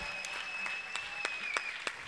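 An audience claps at a live music performance for a singer, with sparse, distinct hand claps over a quiet background.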